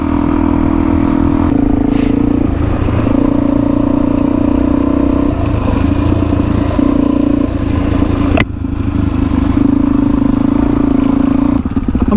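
Motorcycle engine droning and revving steadily while riding a forest fire trail in Jenolan State Forest, Blue Mountains, loud and close with scrapes and clatter from the rough track.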